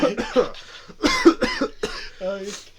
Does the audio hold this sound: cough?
yes